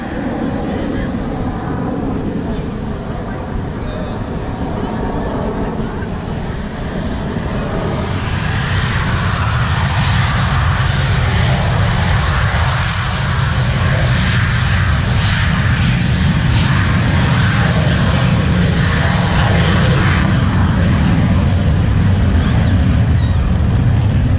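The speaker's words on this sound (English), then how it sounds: "Coming down the other side into a complete loop, then get ready for the solo takeoff." A U.S. Navy Blue Angels jet roars through a solo takeoff at a Pensacola, Florida practice show, a loud sustained engine rumble that swells steadily and holds near, with wind buffeting the mic.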